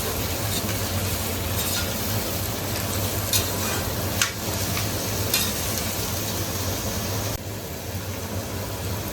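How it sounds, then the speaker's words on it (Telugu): Coriander and mint being stirred into a pot of prawn biryani, a steady close sizzle with scraping and stirring, continuous throughout, dipping slightly toward the end. "కొత్తిమీర, పుదీనా వేసుకొని బాగా కలుపుకుందాం"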